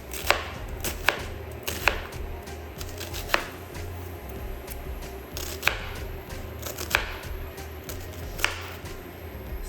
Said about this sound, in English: That's why I'm chopping up so much.